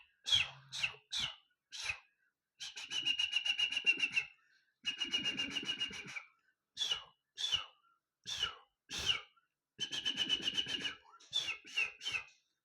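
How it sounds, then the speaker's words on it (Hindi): A kabar, a small bird with a big voice, calling in loud clear bursts: sharp repeated chirps and longer warbling trills with short pauses between them, close by and without speech. "ये थी काबर की आवाज़"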